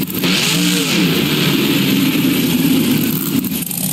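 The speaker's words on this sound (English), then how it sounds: "I can hear a zombie monster truck." A monster truck engine revs in the BeamNG Drive video game, a loud, steady, continuous roar with a rising pitch sweep early on, holding at full volume throughout with no talking.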